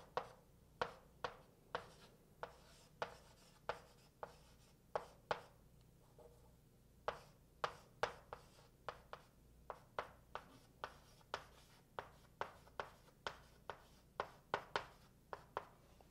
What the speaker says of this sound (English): So I'll start writing these down.